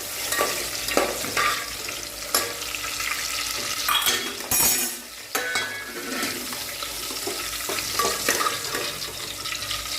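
Chillies frying in hot oil in a home kitchen, a continuous loud sizzle with sharp spattering pops and crackles throughout, one brief hiss surge partway; no one speaks.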